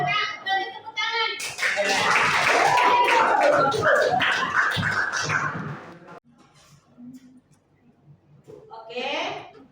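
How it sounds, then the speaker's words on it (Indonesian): Classroom of children breaking into several seconds of dense, close clapping, preceded and followed by talking, with the applause fading out toward the end. "Boleh tepuk tangan."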